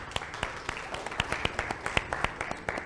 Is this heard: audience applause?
yes